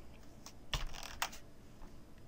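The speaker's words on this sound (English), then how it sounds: "Sorry, I can't type at all." Close, quiet keystrokes on a computer keyboard in a small cluster of clicks, two of them sharper taps, heard alone without talk.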